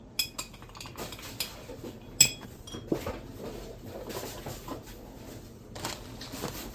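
A spoon stirs a drink with a couple of dried orange slices in a glass, giving quiet clinks and taps against the glass followed by soft swishing, close and faint.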